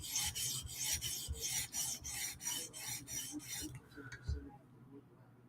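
A Hinderer knife blade rasps over a sharpening stone in about a dozen rhythmic strokes, close and crisp, ending with a couple of light taps.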